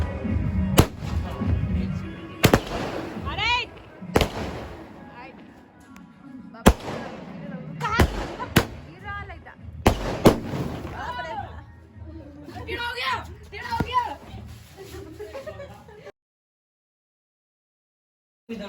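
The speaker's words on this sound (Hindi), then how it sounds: "और यहाँ पे हम पटाखा जलाए" Firecrackers set off outdoors during a festive celebration, several sharp, loud bangs at uneven intervals with crackling and fizzing between them, while a crowd chatters and voices talk throughout.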